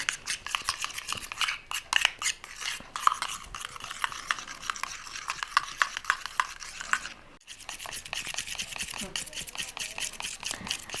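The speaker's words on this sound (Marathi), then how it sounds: "त्यामुळं आपल्याला ना हे चांगलं हलवून घ्यावं लागेल आणि मिक्स करून घ्यावं लागेल" A homemade toothpaste skin-remedy mixture being stirred briskly in a bowl, a rapid close scraping and clicking that runs almost continuously with one brief pause.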